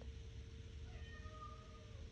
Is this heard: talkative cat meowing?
yes